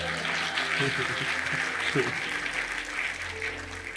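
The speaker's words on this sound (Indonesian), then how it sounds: "Tepuk tangannya gak semangat gitu saudara" Church congregation applauding steadily throughout, a dense wash of clapping with a voice speaking over it partway through.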